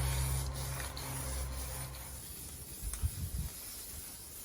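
Spray paint hisses in a light first coat over John Deere LA145 lawn tractor deck parts, a soft steady broadband spray with faint rubbing and low hum, fairly quiet and alone.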